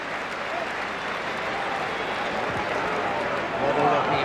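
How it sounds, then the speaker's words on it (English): Farewell crowd at Roker Park, Sunderland's football stadium, applauding steadily; a dense, sustained wash of clapping from a large crowd fills the whole stretch and swells slightly toward the end. "Appreciative applause from Roker Park's farewell crowd."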